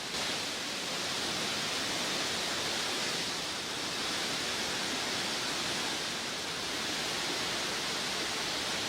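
Floodwater rushes through submerged villages in a loud, continuous broadband roar that stays dense and steady throughout, with no voices.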